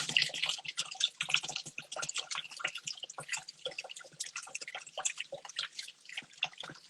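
Warm water running from a kitchen tap while baking a cinnamon mug cake, a steady splashing, dripping flow with fine irregular spatter, fairly close and continuous throughout with no talk over it.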